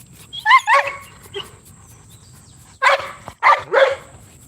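A big, solidly built dog barks close by in two bursts, a few quick barks and then three more after a short pause, loud against a quiet background.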